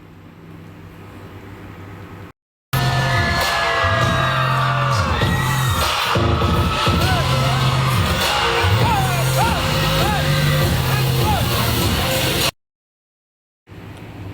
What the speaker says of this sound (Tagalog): Grabe, walang tigil ang sigawan ng mga nanonood.